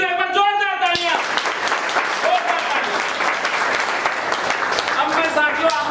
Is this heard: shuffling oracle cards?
no